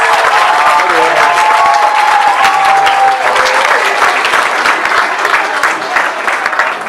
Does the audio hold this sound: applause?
yes